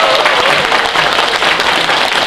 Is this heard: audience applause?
yes